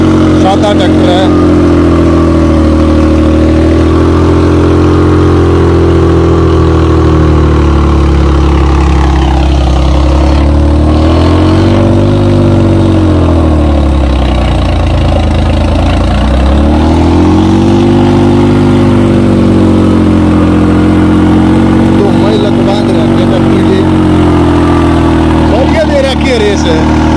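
A loud, steady New Holland tractor engine chugs throughout, its pitch dipping and rising as it revs, with a low rumbling drone close to the listener.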